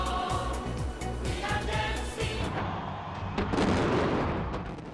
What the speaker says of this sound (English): A spectacular light show and fireworks display illuminated buildings on the Bund in Shanghai.